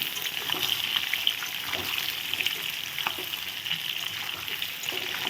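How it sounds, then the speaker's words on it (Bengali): Potatoes for aloo dum fry in oil with a steady, even crackle and hiss, close and moderately loud, broken by a few faint scrapes and no voices. "এখন লাল লাল করে আমি আলুগুলো ভেজে নেব"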